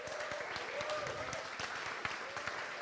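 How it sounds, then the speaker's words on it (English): An audience at a summer school seminar applauds in an auditorium, a fairly quiet, scattered patter of many hands with a few sharper individual claps and faint voices murmuring underneath. "I think that deserves a round of applause."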